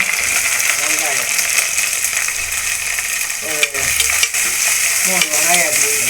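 Onions saute in a pan for chicken curry with a loud, close, continuous sizzle, broken by a few sharp stirring clacks while a voice speaks briefly over it.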